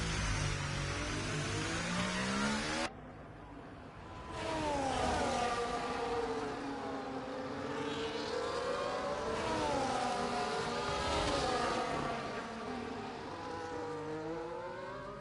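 Race car engines whine and rise through the gears in a Formula 1 video game race at Bahrain, a train of cars running close together with overlapping, sweeping engine notes, steady and moderately loud, after a brief cut.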